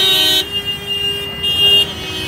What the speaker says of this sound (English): Great Delhi traffic, awesome.